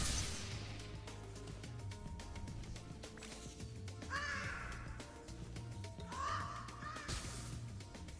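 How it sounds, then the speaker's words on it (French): Crows caw several times in Spyro 3 from the Reignited Trilogy, their harsh calls rising over looping game music. "Ah c'est les oiseaux."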